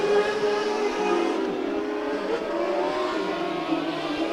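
Dirt track race cars on the oval at Bakersfield Speedway, a steady loud engine roar from several cars holding high and low lines, sustained with no pause and no talk.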